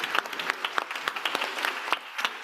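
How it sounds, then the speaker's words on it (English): Applause at the opening ceremony of a global youth forum during World Food Forum Week, a fairly faint, scattered patter of clapping from a crowd with distinct individual claps standing out. "Let's give a heartier round of applause."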